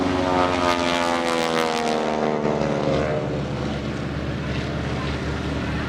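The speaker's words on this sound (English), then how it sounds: "50 horsepower up front on this Super Stearman." A Super Stearman biplane's propeller engine roars overhead during a wingwalking act at the Greenwood Lake airshow, loud at first and then fading slightly with a shifting pitch as the plane climbs and turns, under a public-address commentator's voice.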